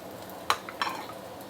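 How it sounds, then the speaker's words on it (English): Raw prawns and garlic drop into a hot wok for Singapore hokkien mee, giving two sharp sizzling bursts over a quiet kitchen background. "I'm going to put in the prawns. Tune down the fire a little bit. I'm putting the prawn,"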